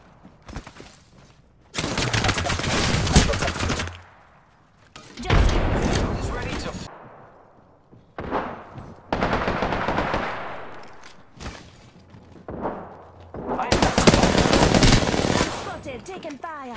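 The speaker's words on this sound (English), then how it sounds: "Listen up, I'm getting shot at." Rapid automatic gunfire in the video game Apex Legends comes in several loud bursts of dense crackling shots separated by short pauses, with an occasional in-game character voice in between.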